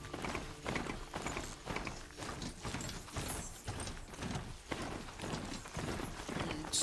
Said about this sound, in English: Oh, and I can call a horse.